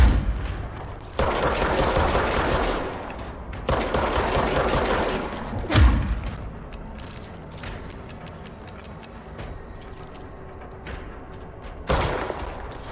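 Gunfire in the video game Control comes in loud, close bursts of rapid shots, several distinct volleys separated by short pauses, with rattling rapid-fire stretches and sharp single impacts and no talk.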